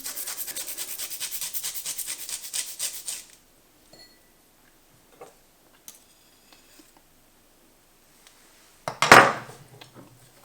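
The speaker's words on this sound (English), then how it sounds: "if you've got a microplane, you can just grate straight in" A garlic clove, skin on, grated on a microplane straight into a lemon juice and olive oil dressing, giving a quick run of soft, even scraping strokes close by for about three seconds, followed by a few faint clicks and a sharp clatter.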